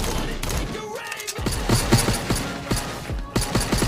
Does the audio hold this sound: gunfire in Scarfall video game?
yes